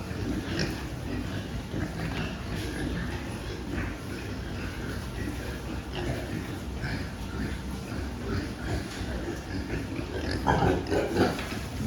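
Several weaned fattening piglets grunt and snort steadily nearby, a dense, continuous chorus of low oinks that swells briefly near the end.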